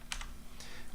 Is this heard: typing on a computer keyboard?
yes